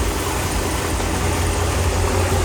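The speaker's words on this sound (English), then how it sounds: "Let's listen to this awesome Corsa exhaust." A Dodge Charger fitted with a Corsa exhaust and black Cerakote tips idles up close, a loud, steady low rumble mixed with broad noise, continuous throughout with no voices.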